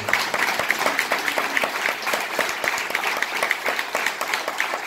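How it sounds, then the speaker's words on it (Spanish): Audience applause at a televised event, a dense steady clapping from a crowd that holds at a fairly loud level for the whole stretch, with no voices standing out. "le pido un aplauso por el esfuerzo"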